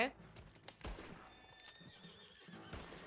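A horse in the video game Red Dead Redemption 2 whinnies loudly at the start, followed by clopping hooves and scattered game effects, with a soft mix of other sounds.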